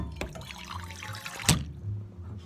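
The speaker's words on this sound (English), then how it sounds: "To this pot, I'll add some water." Water runs from a tap into a cooking pot in a kitchen. The trickle is soft and close, with a brief clank partway through and no talking.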